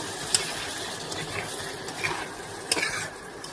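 Broiler chicken for biryani is stir-fried in a pot, with a soft sizzle under intermittent scrapes and clinks of a spatula stirring, quiet and close with no speech.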